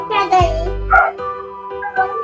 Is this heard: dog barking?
yes